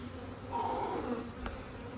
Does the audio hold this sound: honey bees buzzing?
yes